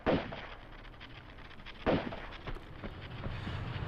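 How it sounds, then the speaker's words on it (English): Gunfire in the PS1 game Tomb Raider II as Lara shoots at spiders on the Great Wall level: a few sharp, loud shots spaced irregularly, at the start and near the two-second mark, over a constant noisy game backdrop. "Lara's shooting towards them."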